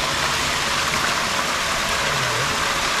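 Hot thermal spring water flows at a steady rush, a constant broadband hiss from start to finish with a faint low hum underneath, recorded at an old spa resort.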